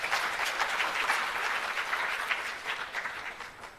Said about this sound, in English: Let's give all ourselves a big round of applause